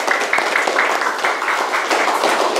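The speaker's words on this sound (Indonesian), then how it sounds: "Tepuk tangan untuk kita semua." Children in a classroom clapping for one another after a science lesson, a loud, steady burst of rhythmic group applause throughout, close and alone.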